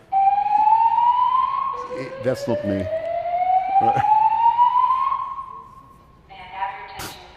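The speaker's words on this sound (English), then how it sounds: "The alarm you have just heard is part of the building's early alert system." Building fire alarm from an early alert system at a summit venue: loud, rising, whooping siren tones that sweep upward repeatedly, while people talk over it.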